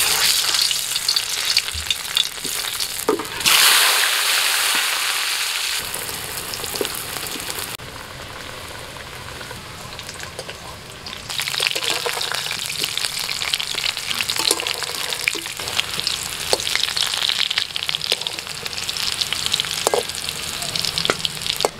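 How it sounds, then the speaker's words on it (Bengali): Boiled potatoes hit hot mustard oil with a loud burst of sizzling, then settle into a steady, close crackling fry that runs throughout without speech. "এখন তেলের মধ্যে আমি আলুগুলো দিয়ে দিচ্ছি।"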